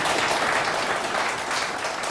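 An audience at a violin concert gives sustained applause in a hall, with many hands clapping in a thick, continuous wash that stays steady and fairly loud.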